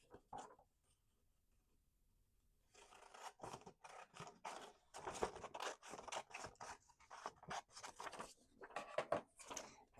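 Scissors cut a junk journal paper page down the middle after a quiet moment, producing a steady run of crunchy, close snips that grow busier toward the end.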